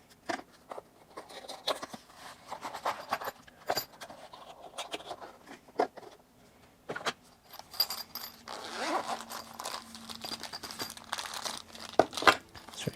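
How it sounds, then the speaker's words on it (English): Unboxing a Remette Saker Falcon knife with titanium and S45VN steel, starting with a zip pouch: a long zipper pull and crinkling packaging, close and fairly quiet. "I'm going to do a little unboxing."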